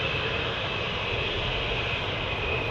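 Steady, broad roar of military jet aircraft taxiing at RAF Lakenheath airbase, a constant distant engine drone with a faint high whine running through it, no talking.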